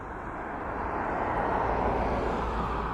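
A plane approaching East Midlands Airport, heard as a steady, fairly distant broadband engine roar that builds slightly and holds without a break.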